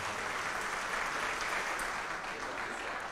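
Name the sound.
round of applause for Jesus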